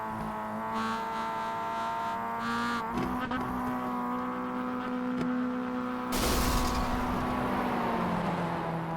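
A Mazda MX5 race car engine in the iRacing game, at the Nurburgring combined circuit with a possible gear failure, holds a steady droning tone that shifts pitch, ending in a louder rough burst.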